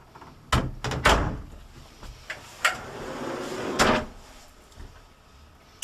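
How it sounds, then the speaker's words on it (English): A motorhome wardrobe door in a 2009 Allure 400 opens and then slides in, giving a few close wooden thunks and knocks with a longer rolling slide between them, with no voices heard. "we have this door that opens and then it slides in"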